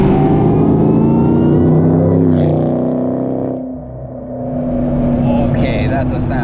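A 2004 Mustang Cobra's exhaust revs loudly from inside the cabin, rising, dipping and climbing again as the engine note swells over several seconds with no talking.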